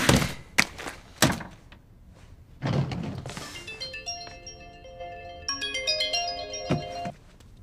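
A few dull thuds and knocks come first, then a phone ringtone starts, playing a bright repeating melody of tones as an incoming call rings.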